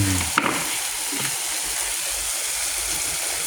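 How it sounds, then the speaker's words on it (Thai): Minced pork with holy basil stir-fried in a wok, loud steady sizzling with a brief spatula scrape near the start, continuous and close with no talk. "ผัดกะเพราหมูสับแบบแห้ง"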